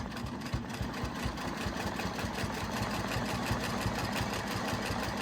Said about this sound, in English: Get it all lined up, and I'm gonna start stitching.